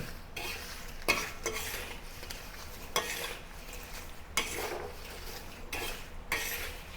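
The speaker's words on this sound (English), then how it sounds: "Turn up the heat, mix everything together." Shrimp tossed with crispy garlic ingredients are stirred in a hot wok over high heat. A spatula scrapes and clanks in regular strokes over a soft, continuous sizzle, with no talking.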